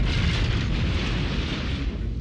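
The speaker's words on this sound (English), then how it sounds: "Mr. Peterson's explosion next door is a little early tonight." A neighbour's explosion next door roars as a dense, loud rumbling blast that stays sustained and broadband for a couple of seconds, with no voices over it.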